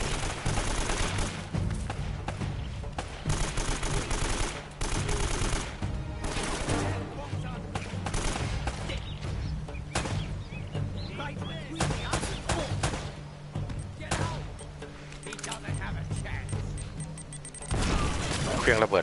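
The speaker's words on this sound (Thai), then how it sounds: "มันยิงระเบิดใส่เราแล้ว" Rapid gunfire and grenade blasts from a firefight in Uncharted: Drake's Fortune, dense and loud throughout, with bursts of shots and heavier booms layered under game music and a voice speaking over the action.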